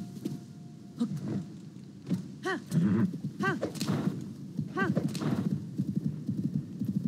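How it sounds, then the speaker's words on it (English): Horse in the Zelda: Tears of the Kingdom video game, clip-clopping hooves with several loud whinnies spread through the clip, close and clear over a low background. "Now that I finally have a horse, I can call him whenever I want to."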